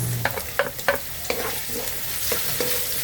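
Garlic, onion and turmeric sautéing in a pan, a steady hiss under a series of sharp spatula scrapes and taps at irregular intervals.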